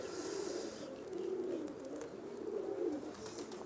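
Teddy breed pigeons coo steadily in low, soft, rounded calls that swell and fade across the moment, close by over a quiet hiss of room noise with no voices.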